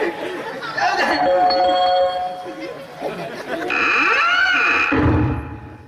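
A doorbell chimes with bright ringing tones amid chatter from several voices during a Zadipatti folk stage play, then a second louder ring follows.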